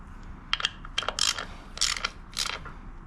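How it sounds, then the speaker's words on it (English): A hand wrench ratchets on the bolts of a 2013 Harley-Davidson touring motorcycle during an oil service, a few bursts of quick metallic clicks close up with short pauses between them. "then I go around with the wrench"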